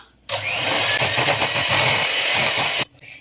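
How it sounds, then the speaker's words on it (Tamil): An electric mixer beats butter for a Christmas plum cake, a loud continuous whirring buzz that starts abruptly, holds steady for about two and a half seconds with slight wobbles, then stops. "இப்ப பீட் பண்ணிக்கலாம்."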